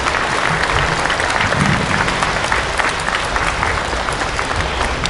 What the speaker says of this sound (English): How about another round of applause for all four of our speakers today?